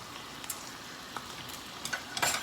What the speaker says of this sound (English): I've got the sauce over here simmering